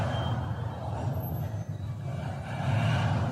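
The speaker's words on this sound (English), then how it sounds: "You can hear all the train cars bumping their hitches together as they slow down." A low, steady rumble of rolling Norfolk Southern train cars with dull knocks and clanks of couplings bumping as they slow, continuous and fairly close.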